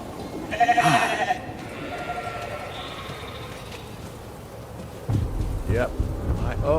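A sheep bleats loudly near the start in the video game The Alters, followed by fainter bleats and game background sounds, with a person talking over parts of it.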